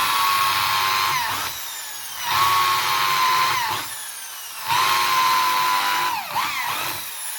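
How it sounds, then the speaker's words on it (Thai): A power drill bores into a wooden window frame in three sustained whining bursts separated by short pauses, loud and close. "ก็ให้ทำการเจาะด้วยสว่านเลยนะครับตัวนี้นะครับ"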